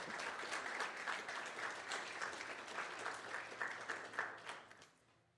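A room full of people at a county board meeting applauds steadily for several seconds, the clapping dense and even before trailing off at the end.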